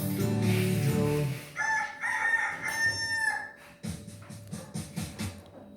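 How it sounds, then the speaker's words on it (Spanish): A recorded rooster crows several times in a row, clear and close, with some clucking and fowl sounds between the calls, standing alone without talk. "Dime si tú sabes cómo hace el gallo."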